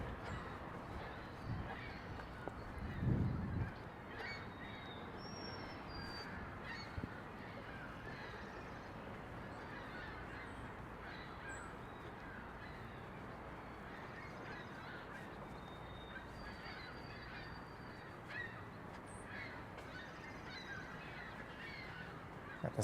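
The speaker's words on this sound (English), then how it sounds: "The sound of seagulls." Seagulls calling outdoors in a city park in Toronto, honking cries scattered over steady traffic and outdoor hum, fairly distant with one louder burst early on.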